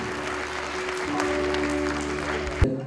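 An audience at an evening charity cultural event breaks into sustained clapping that carries on steadily for a few seconds, with faint voices and a brief knock near the end.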